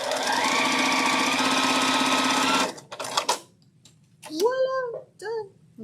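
A sewing machine stitches a pink quilt block in a fast, steady run for nearly three seconds, then stops; someone speaks afterward, close and clear.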